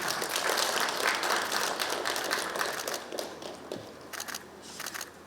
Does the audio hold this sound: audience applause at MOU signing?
yes